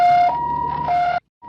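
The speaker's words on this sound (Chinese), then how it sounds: "救护车才就同步出动，" An ambulance siren, loud and near, responding to a drowning at a creek in Taiwan. It wails in alternating high and low tones, then cuts off abruptly and briefly resumes.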